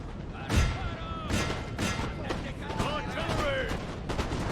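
Artillery cannon fire on a Napoleonic battlefield in Napoleon: Total War, Great Britain campaign: several heavy booming shots land roughly a second apart over a dense battle din, with voices shouting in the mix.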